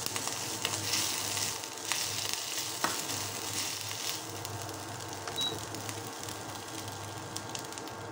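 Ginger paste sizzles in a hot pan while cooking the base for a paneer pizza, a steady close crackle with a few light stirring knocks and no talking.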